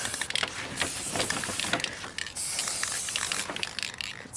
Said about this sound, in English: All right, ready to spray.